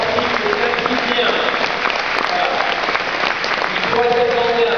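Loud sustained applause from an audience in a newly inaugurated arena in Vendée, cheering a champion athlete, a dense wash of clapping throughout with a voice over it.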